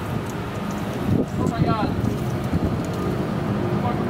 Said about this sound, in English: Oh my god, it's windy.